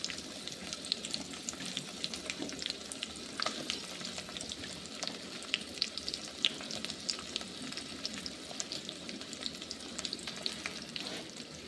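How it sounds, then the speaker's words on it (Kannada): Potatoes fry in a pan while being stirred: a faint, even sizzle with soft intermittent scrapes and ticks running throughout, quiet and unaccompanied by voices. "ಸ್ವಲ್ಪ ತಿರ್ಗಾಕ್ತೀನಿ"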